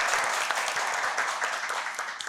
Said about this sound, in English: a round of applause for both teams for getting this far